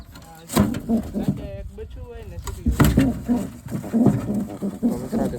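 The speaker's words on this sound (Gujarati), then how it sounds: "અહીંયા જો એક જંગલી કબૂતર છે, બહુ ડેન્જર છે" Soft cooing of a wild pigeon mixes with a person speaking nearby, plus a few knocks and rustles close to the microphone.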